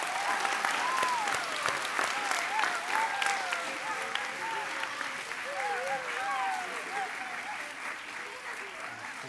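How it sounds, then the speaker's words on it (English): Full audience applause at a lower school winter concert, a broad steady wash of clapping lasting several seconds, with voices calling and cheering mixed into it. "Please join me in a round of applause for Miss Jackson"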